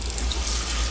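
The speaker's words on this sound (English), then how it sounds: "So I'm adding in 3 cups of water at this point, and I'm going to stir this up" Water is poured into a no-knead bread dough mix, a brief steady splashing pour like a tap running, close and fairly loud, with no speech.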